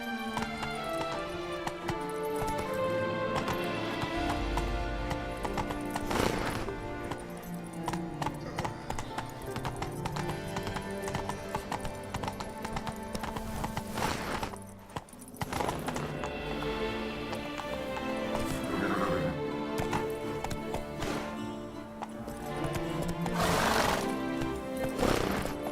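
A horse gallops in The Witcher 3, its hooves clip-clopping in a quick rhythm beneath game music, with a brief whinny and a voice urging it on.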